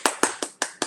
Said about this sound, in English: I'll give you a round of applause there